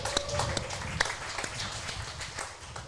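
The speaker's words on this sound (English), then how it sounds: "We'll give her a clap." An indoor bowls crowd at the Australian Indoor Qualifiers in North Haven applauds an event winner, with scattered hand claps at moderate distance and faint voices mixed in.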